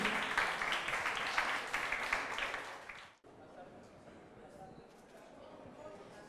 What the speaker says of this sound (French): On applaudit encore pour Policena Aïcheou.